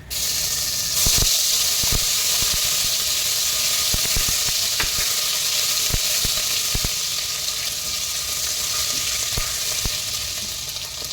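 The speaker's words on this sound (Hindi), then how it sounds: "इसमें हम ये अदरक लहसुन डाल देंगे" Ginger and garlic sizzle in hot oil for a tadka in a pressure cooker, a loud, steady frying hiss with scattered crackles and pops throughout, no talking over it.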